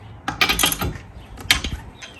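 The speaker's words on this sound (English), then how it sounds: "I just have a socket wrench to tighten it on." A hand socket wrench tightens a spare tire with a few quick ratcheting clicks and metallic taps, close and fairly loud, in two short bursts.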